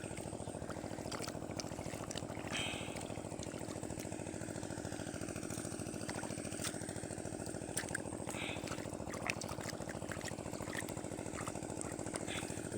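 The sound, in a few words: old Chinese-made engine running all day for irrigation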